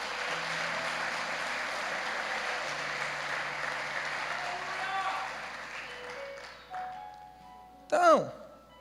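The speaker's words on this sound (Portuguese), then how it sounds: "Dá um aplauso para Jesus." Congregation in a church applauding, a dense wash of clapping that fills the first few seconds then fades out, followed by brief faint sounds and a short voice at the end.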